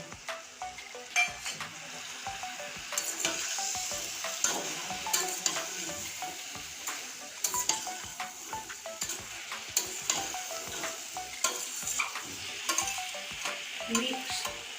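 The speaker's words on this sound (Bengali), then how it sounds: "সবজি তো এখন ভালো করে কষতে হবে" Mixed vegetables with green chilli and chopped tomato sauté in a pan for a vegetarian five-vegetable curry, a steady close sizzle broken by frequent scraping, stirring strokes and light utensil knocks on the pan.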